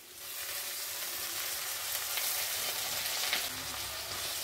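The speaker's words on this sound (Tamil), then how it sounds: "மல்லித்தலை வந்துங்க ரொம்ப வணக்கக்கூடாது, ஓரளவுக்கு பாதி வணக்கினா போதும்." Coriander leaves sizzle steadily in a hot pan with roasted coconut for chutney, a soft continuous frying hiss with occasional stirring, close and fairly quiet, with no talking.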